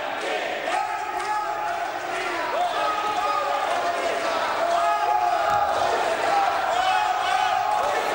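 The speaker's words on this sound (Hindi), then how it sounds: "मेजें थपथपाकर अपनी अपनी और तालियां बजाकर" Members of Parliament in the Lok Sabha thump their desks and clap to welcome the Prime Minister, a dense, sustained roar of pounding and applause mixed with many voices.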